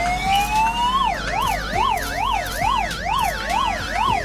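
An ambulance siren in the Toy Rider PC racing game starts with a rising wail and then switches to a fast, steady up-and-down yelp, loud and continuous over low game engine rumble.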